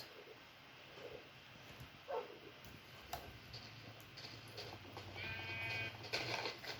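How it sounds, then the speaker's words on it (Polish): Sheep bleat faintly in Minecraft version 1.0.0, a few short calls rising over quiet game ambience and ticking footsteps, growing slightly louder toward the end. "Owieczko, owieczko,"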